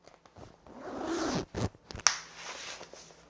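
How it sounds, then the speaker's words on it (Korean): A zipper on a spring jacket is pulled in a long close rasping run, then a few short quick zips and a small click, faint against quiet room tone. "지퍼 부분도 이중으로 되어 있어서 지퍼가 한 번 더 있어요."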